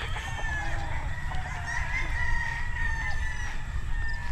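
Chickens cluck steadily on a farm while a rooster crows, the fowl calls loud and continuous over a low background rumble.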